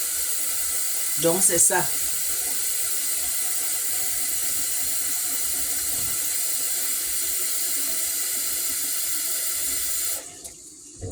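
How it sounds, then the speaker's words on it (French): Water runs in a steady, loud, continuous stream as it is added to a cooking pot, filling the scene for about ten seconds before stopping abruptly; a person speaks French briefly near the start. "On va ajouter un peu de l'eau. On va ajouter de l'eau."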